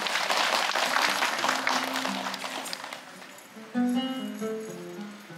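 Broadband clapping from a studio audience fills the first few seconds, fading gradually while music with sustained tones rises underneath.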